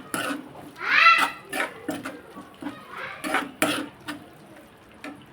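A spoon stirs and scrapes through tomato and egg curry in a metal pan, a series of irregular clinks and knocks with one longer scraping swirl, close and fairly loud with quiet gaps between strokes.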